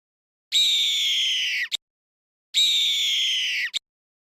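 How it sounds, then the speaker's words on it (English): A hawk gives two long, loud, piercing screeches, each descending slightly and ending with a brief clipped note, separated by a pause of silence. "Hawk."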